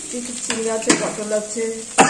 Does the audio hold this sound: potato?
yes